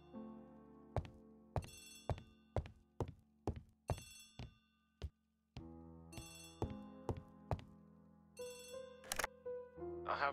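A telephone rings in Agatha Christie: The ABC Murders video game, with repeated loud bell-like trills in two bursts and a brief pause between them, alone without talk.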